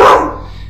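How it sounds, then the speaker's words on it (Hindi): One loud, close dog bark rings out sharply and fades quickly into quiet, heard at night outdoors. "साथ ही डॉगी भी उस पर भौंका"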